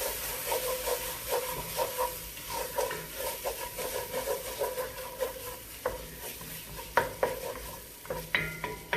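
Tomato paste being stirred into a sizzling pan of red dal, a steady hiss and frying crackle with repeated scraping stir strokes and a few sharper clinks near the end, close and moderately loud.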